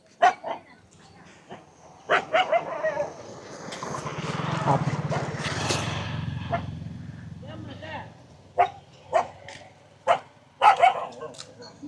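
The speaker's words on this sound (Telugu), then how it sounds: "ఓ కుక్క కూడా ఒకటి ఉంది" A dog barks in several sharp bursts, interspersed with people talking and a passing vehicle rumbling through the middle.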